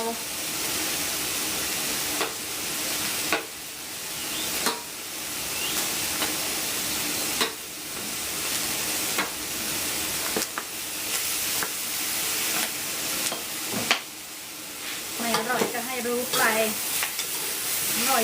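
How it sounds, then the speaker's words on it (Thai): Pork sausage frying and eel stir-frying over two stoves in a kitchen in Phichit province, Thailand: a steady, close, broadband sizzle with repeated clanks and scrapes of stirring, and brief voices near the end. "ทอดหมูยอด้วย ผัดปลาไหลด้วยนี่สองเตา"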